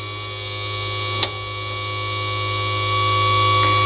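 A Ricon wheelchair lift on a Ford Transit rises with a steady mechanical hum and faint high whine, broken by a couple of brief clicks, close and continuous with no voices.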